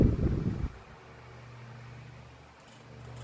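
A grey Duracraft 12 inch desk fan oscillating unevenly with a slightly jerky sweep, giving a steady low motor hum and soft airy whoosh close by after a louder bump at the start.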